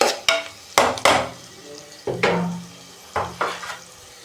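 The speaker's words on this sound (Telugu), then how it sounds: "కొంచెం మిరపకాయలు వేస్తున్నాను, అది మిర్చి, పచ్చిమిర్చి వేస్తున్నా." Green chillies hit hot oil in a pan while paneer is being cooked, giving sharp clatters and bursts of sizzling as a spoon stirs and scrapes, close and fairly loud in irregular spurts.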